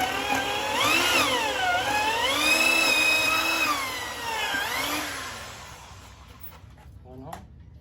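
A power drill with a 5/16 bit whines steadily, its pitch rising and falling as it bores a hole for a trailer fender mount, then winds down and stops near the end.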